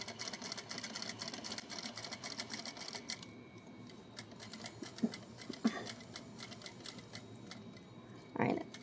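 A sewing machine stitches a scarf in a steady rapid mechanical whir for most of the span, pausing briefly before a few louder clicks and a short final burst near the end. No one speaks.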